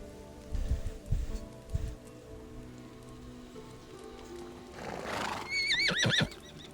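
In the video game Medieval Dynasty, a horse clip-clops in a few hoof beats, then neighs with a loud, wavering whinny, set against a soft ambient background.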